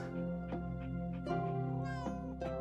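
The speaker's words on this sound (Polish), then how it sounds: "Słyszę kota." A cat in the video game House Flipper meows several times in short, plaintive calls over steady tonal background music.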